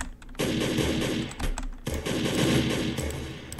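Sniper tower gunfire in the Roblox game Tower Defense Simulator: loud bursts of rapid shots in two main volleys with brief gaps between, close and prominent, with no talking.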